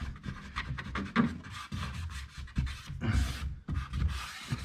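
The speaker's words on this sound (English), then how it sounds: "razor blade knives and stuff like that actually do work. Clean that right off of that trim." A razor blade scraping paint off wooden trim, a series of short rough rasping strokes, close and fairly quiet, repeating irregularly with brief pauses.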